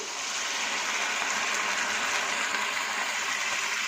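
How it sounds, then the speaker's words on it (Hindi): A steady gushing rush of water poured into a pot of dal kofta curry, about 500 ml, continuous and close, filling the whole moment with no talk over it. "इसके साथ ही इसमें 500 ml पानी शामिल कर देंगे।"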